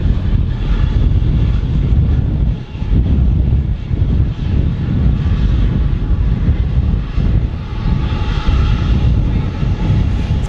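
A KLM airliner passes at Manchester Airport in strong wind, its engine roar steady and loud for the whole stretch, heavily mixed with gusty wind buffeting the microphone.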